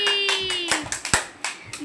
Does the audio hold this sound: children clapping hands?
yes